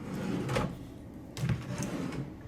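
A dresser drawer in a Hilton Americas hotel room in Houston slides open or shut twice, each a short close rumbling scrape with a knock, about a second apart, with no talk.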